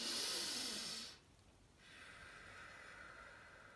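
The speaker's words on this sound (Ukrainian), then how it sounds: "Видихаємо через вузький отвір ротика, щоб заспокоїти своє дихання." A breathing exercise: a strong, breathy exhale through a narrow mouth opening hisses loudly for about a second, then after a short pause a second, softer and longer exhale follows, close and with no talking.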